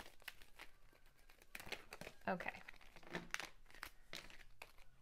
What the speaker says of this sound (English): I always regret using this deck because it's so hard to shuffle.